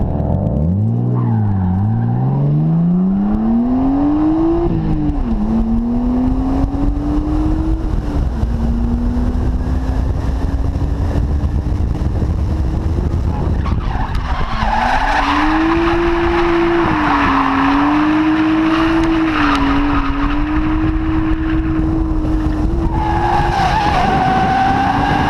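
A car drifts on Kenda KR20 or Tracmax F105 tyres that are about half worn. Its engine roars loudly and steadily, with revs sweeping up and down, under a constant broad screech of sliding rubber. No one speaks.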